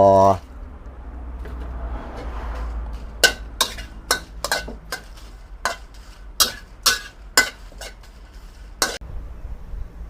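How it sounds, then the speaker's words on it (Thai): Dried bird's eye chilies being dry-roasted in a pan, heard as a steady series of sharp, separate clacks and scrapes as they are stirred and tossed, fairly close, over a quiet background. "หลังจากที่เราคั่วสมุนไพรอันนี้เสร็จแล้วเราก็จะมาคั่วพริกขี้หนูแห้งต่อ"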